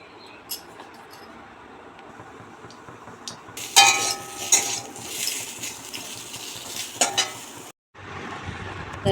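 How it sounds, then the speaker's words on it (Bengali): Mustard seeds sizzle as they temper in hot oil in a wok while mango pieces are stirred through them. The crackling and scraping rise loud for a few seconds over a steady low background, then cut off abruptly. "একটু সর্ষে ফোড়ন দিলাম, দিয়ে আমটা একটু নেড়ে চেড়ে বসিয়ে দেবো"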